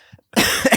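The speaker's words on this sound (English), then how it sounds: "Oh my God, off on my coughing fit." A person breaks into a harsh coughing fit, a couple of small throat sounds first, then a loud, close burst of sustained rough coughs.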